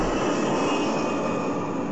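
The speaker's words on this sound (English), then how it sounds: "The Antonov 124 is capable of landing successfully on primitive runways." Antonov An-124 heavy cargo jet engines roar in a loud, steady, broadband rush with no talking, a continuous close engine noise throughout.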